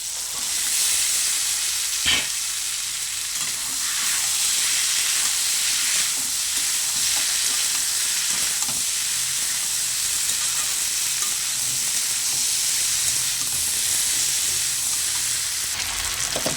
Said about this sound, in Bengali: এবার দিয়ে দেবো সিদ্ধ করে রাখা ছোলা আর আলু।